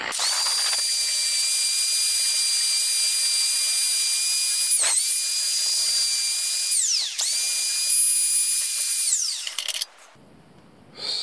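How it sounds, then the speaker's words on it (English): A power drill spins a wire brush against a wheel lug nut to strip paint, a loud steady high whine that dips briefly twice under load before cutting off near the end. "I'm gonna use a drill"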